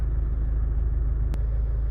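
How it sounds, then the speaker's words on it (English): A Honda Civic i-DTEC SR with a 1.6 diesel engine idles steadily, a low, even rumble with no revving, heard close and alone with one short click partway through. "Engine running, no warning lights on at all."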